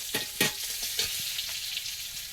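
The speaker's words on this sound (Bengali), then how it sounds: "তেলের মধ্যে এখন একটু পেঁয়াজ কুচি আর রসুন কুচিটা দিয়ে দেবো" Chopped onion and garlic frying in a little oil in a wok, a steady close sizzle with a few sharp spattering bursts near the start and scraping stirs throughout.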